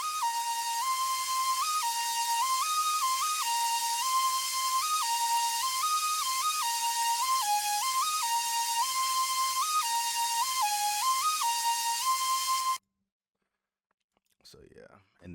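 A synth lead melody from an FL Studio beat built on a pop song, a bright whistle-like tone stepping between a few pitches in a steady phrase, loud and alone for about thirteen seconds before stopping abruptly, then a brief faint sound.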